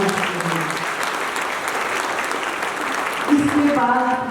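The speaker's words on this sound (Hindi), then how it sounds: "तो प्यारे शिव बाबा का जोरदार तालियों से धन्यवाद।" Audience applause at a Mahashivratri celebration, a steady wash of clapping from a gathered crowd that carries on throughout, with a voice briefly audible near the end.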